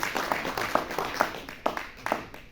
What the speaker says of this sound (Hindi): जोरदार तालियां प्लीज एक बार फिर से।